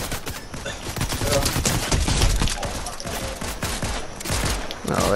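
Rapid bursts of video game gunfire crackle densely from several players at once, sustained and loud throughout with little pause, faint voices mixed under the shots.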